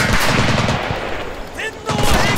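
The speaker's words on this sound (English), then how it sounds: "Give me cover! Covering fire!" Loud, dense gunfire fills the scene in Medal of Honor: Pacific Assault, a World War II Pacific combat video game, with rapid automatic bursts rattling almost without pause.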